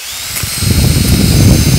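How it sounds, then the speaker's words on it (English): A power drill bores a small hole into a wooden stick for pinning a pink tillandsia into a floral design, a steady close whirring grind that builds and holds loud throughout. "we're gonna take our sticks and drill"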